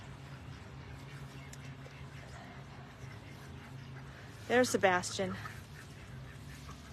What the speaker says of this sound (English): Runner Duck standing up on his hind legs higher